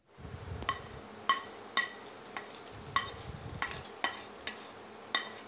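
Green chillies and curry leaves sauté in hot oil for a Kerala moru curry, a soft steady sizzle broken by intermittent sharp spoon-against-pan clicks and scrapes, close up with no talking.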